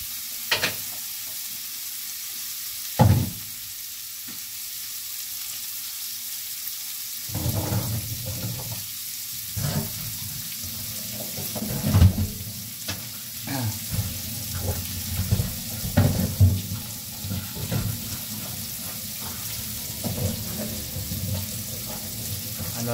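Food seasoned with Magic Sarap sizzles in oil in a pan while a utensil stirs it in scattered scrapes and knocks, close up, with occasional louder clatters over steady frying hiss.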